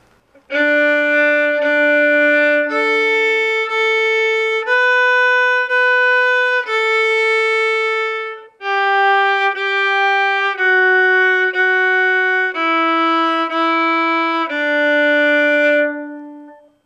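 Violin plays the opening part of the Polish folk melody Kurki trzy, a slow sequence of clear sustained bowed notes stepping downward, solo and close with no speech.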